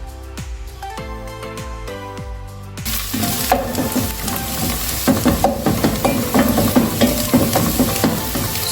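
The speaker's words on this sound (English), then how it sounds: "I will allow my onions to cook until they are caramelized or golden brown" Chopped onions frying in a hot pan as the base for a peas stew, a steady loud sizzle broken by repeated scraping and stirring strokes of a spoon against the pan, with no talking.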